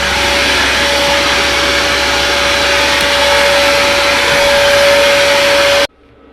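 A Vevor shop vacuum runs loud and steady for about six seconds with a constant high whine over broadband airflow roar, then cuts off abruptly, leaving near silence.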